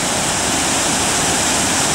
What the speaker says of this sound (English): The water just bursting down